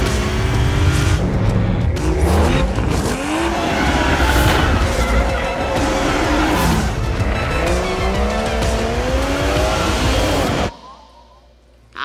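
A Toyota GR Supra is driven hard through corners, loud tires squealing in repeated rising and falling wails over a roaring engine, continuous and close, cutting off abruptly near the end.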